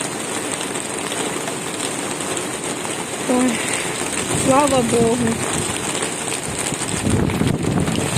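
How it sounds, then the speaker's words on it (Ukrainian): Steady broadband hiss of rain falling outdoors after a long dry spell, continuous through the whole stretch with brief pitched calls or voices over it, and someone speaking briefly under the rain. "І тут нарешті вже дощ."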